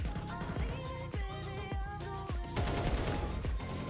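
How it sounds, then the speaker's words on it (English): Rapid bursts of AK rifle fire in a video game, several quick volleys crackling in a fast rhythm, loud and close with continuous game background underneath. "Now I use the AK."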